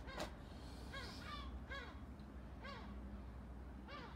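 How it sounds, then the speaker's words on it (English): Seagulls calling over a garden, faint and distant: about five harsh, descending cries spaced irregularly over a low background hum. "I can already hear the seagulls having a go."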